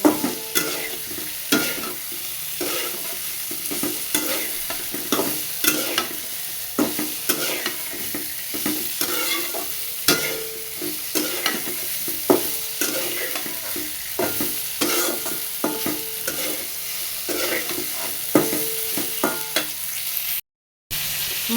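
Fried potatoes and pointed gourd stirred with a spatula into a soybean curry in a pan, sizzling steadily throughout with repeated scraping strokes, close up and with no talking.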